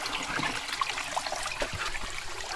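Mountain spring water flows fast from a pipe in a continuous close splashing rush, steady and hissy with small gurgles throughout.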